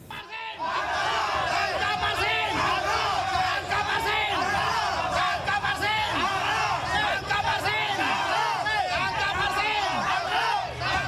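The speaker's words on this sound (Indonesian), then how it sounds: "Teriakan seperti ini disampaikan puluhan warga Desa Kohot" Dozens of villagers shout together at a rally in Kohot village, Tangerang, Banten, a loud, continuous crowd roar of overlapping yells and chants that holds steady throughout.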